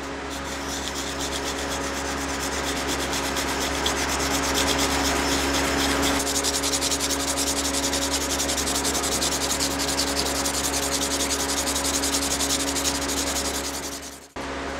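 Sandpaper rubs rhythmically on a hidden tang knife handle, a steady close scratchy back-and-forth that continues without pause, then stops abruptly near the end.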